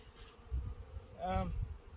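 Honey bees buzzing close by at a hive, a steady low hum swelling into a louder, whining buzz as one passes near midway.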